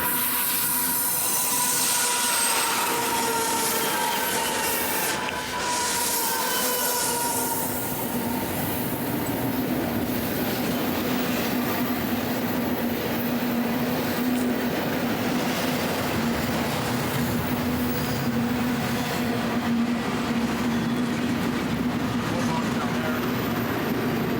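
A train rolls past on the tracks near a crossing, a loud continuous rumble with a steady metallic wheel tone, squeals and clicks that goes on for over twenty seconds without a break.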